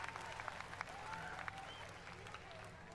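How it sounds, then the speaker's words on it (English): Steady applause with cheering fills the space at a Fortnite finals event, a dense continuous patter of many hands clapping without pause. "Can we get a round of applause for Jinx?"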